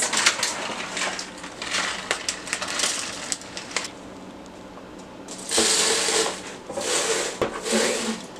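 Dry oats for pumpkin muffins are poured out in several bursts of rustling, crunching pours, close and fairly loud, with short pauses between them.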